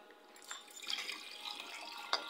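Water runs from a household water filter into a container, a faint, steady trickle with a brief splash near the end and no talking.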